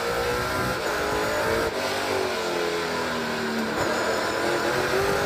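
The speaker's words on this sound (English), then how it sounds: "now we ride on board with Kevin Lacroix on the bumper-to-bumper Dodge" Onboard engine of a Dodge race car in the 2021 NASCAR Pinty's Series, a loud, continuous roar with shifting pitch as the car accelerates around the track, with no talk.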